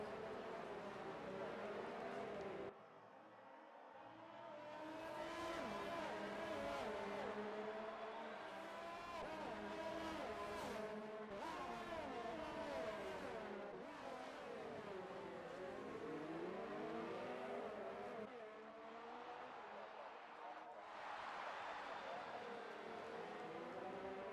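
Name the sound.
F1 race cars driving on a straight in video game F1 2019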